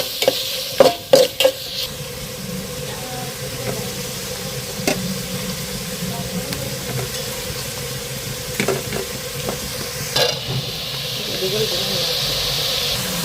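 Tomatoes and masala sautéing in a pan, with a soft hiss and sizzle punctuated by a few sharp spoon knocks and scrapes, then stirring under a steadier steamy hiss near the end.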